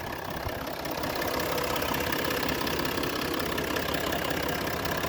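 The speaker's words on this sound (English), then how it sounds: "All the engines all sound tappy and rattly because the microphone's so good." Land Rover Discovery 3.0 TD V6 diesel engine idling, recorded close under the bonnet: a steady, tappy, rattly clatter with an even rhythm, loud and continuous with no talk.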